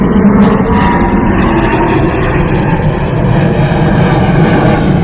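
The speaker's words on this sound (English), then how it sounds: "I'm gonna go for this airplane." A loud, steady airplane engine roar plays as a sound effect, a dense broadband rumble holding constant throughout with no voices.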